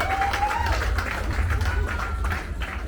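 An audience at a Jamaican public ceremony claps steadily, a moderate, sustained patter of applause from a gathered crowd.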